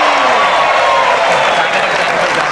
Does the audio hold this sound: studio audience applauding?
yes